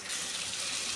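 Water pouring into a cooking pan for a Bengali pabda fish curry, a steady, close rushing splash that runs unbroken for about a second.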